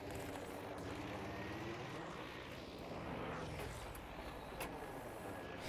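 A fighter plane engine in Battlefield 5 gives off a steady, faint roar, with a slight rise and fall in pitch and no voices.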